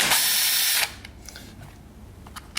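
A loud power drill driving a T30 Torx bit on a Husqvarna 701 motorcycle whirs steadily for under a second and cuts off, leaving a quiet room with a few faint clicks and light handling noises.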